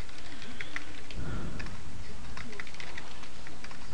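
Rapid, irregular keystrokes clatter on a computer keyboard, close and steady over a constant background hiss, with a brief low murmur partway through.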